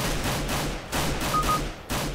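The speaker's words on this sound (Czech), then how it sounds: "slyšel jenom střelbu" Rapid bursts of rifle and pistol fire in the CS:GO video game, several sharp shot clusters spaced through the moment, loud and close with no talking.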